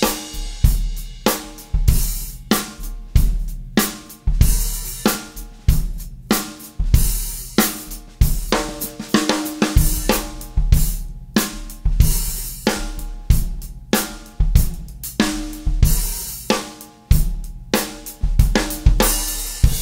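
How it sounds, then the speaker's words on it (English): Rock drum beat on a kit with the kick loudest, snare next and a soft hi-hat keeping motion, a steady groove played alone with no talking. "The proper mix for a rock thing is kick is the highest, then snare, and then hi-hat is just for motion."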